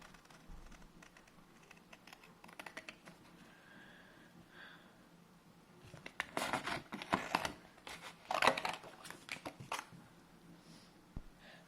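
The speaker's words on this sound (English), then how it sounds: "you want to get scissors and start cutting it" Scissors cut paper to make a sleeve for a Pokémon card, a series of close, crisp snips and rustles that come in quick clusters, busiest toward the middle and end.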